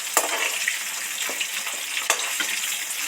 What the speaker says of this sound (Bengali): ঢেঁড়সগুলো তো সব ডিপ ফ্রাই করে ভাজা হয়ে গেছে